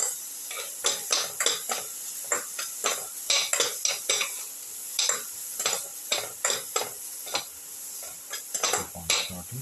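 Shallots and egg with snake gourd are sautéed in a pan, a spatula scraping and clinking against the metal in quick, repeated strokes over a soft, steady sizzle.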